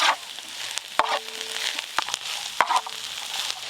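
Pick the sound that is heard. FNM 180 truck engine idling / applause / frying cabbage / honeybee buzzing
frying cabbage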